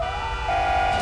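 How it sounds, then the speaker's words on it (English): A wailing ambulance siren from the video game GTA 5 blares close and steady, its pitch shifting partway through as it responds code 3, with a low engine rumble underneath. "Ambulance, responding code 3."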